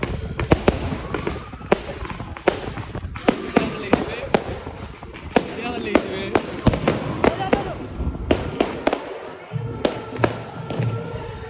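A steady barrage of Diwali firecrackers bursts nearby, dozens of sharp cracks in irregular rapid rhythm over background voices.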